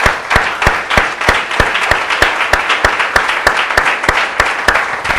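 A church congregation applauds, giving sharp, rhythmic, unison claps in a steady beat, loud and close, with no talk over them.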